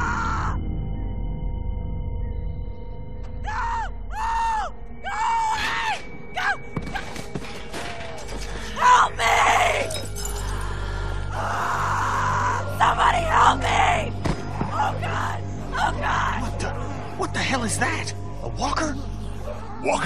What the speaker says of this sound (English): Walkers don't scream, do they?